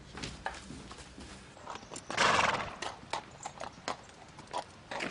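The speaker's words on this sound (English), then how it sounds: "Now, is that not a horse, or isn't it?" A horse's hooves clip-clop in an irregular walking rhythm, broken midway by a loud, close neigh, then the hoofbeats carry on alone.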